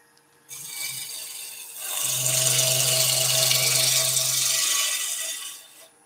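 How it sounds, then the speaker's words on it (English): A wood lathe spins a garden tool handle with a steady mid-pitched hum and a scraping cut, running for a few seconds at moderate level before winding down, with no talk. "All right, let's just stop the lathe."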